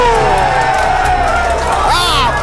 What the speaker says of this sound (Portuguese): Aplausos no salão!